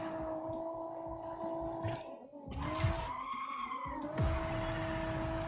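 A race car drifting in the Rocket Racing video game, with a steady engine drone and rising, sweeping tire skids that squeal through the turn, loud and close throughout.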